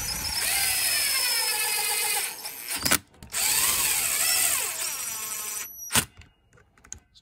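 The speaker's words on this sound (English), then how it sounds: "I'm actually going to just use my impact driver to drive these in just so it's quick." Cordless impact driver with an 8mm socket runs in the clutch cover bolts on a 1978 Yamaha DT175E engine rebuild, two sustained whirring, hammering bursts of a couple of seconds each, close and loud, with a short pause and clicks between.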